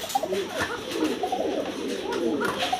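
Satinette pigeons coo softly and repeatedly, close by, in low rolling burbles that overlap one another.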